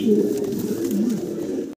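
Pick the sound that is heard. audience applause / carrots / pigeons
pigeons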